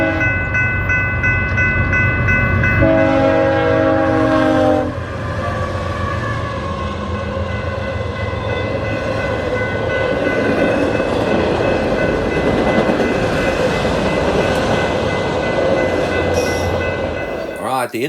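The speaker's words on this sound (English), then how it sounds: "there's also trains. So watch out for the trains. They're going through." A train rumbles steadily past close by at a fishing barge in Genoa, Wisconsin, its horn sounding a sustained chord early on, with wheels clattering and roaring throughout.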